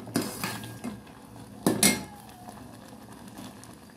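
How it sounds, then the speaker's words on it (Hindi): Spoon scraping and knocking against a pot while spicy sweet tomato sauce is stirred over medium-high heat, a few sharp metallic clinks among softer scraping and bubbling, close and clear with no talk. "इसको अच्छे से मिक्स करते रहें।"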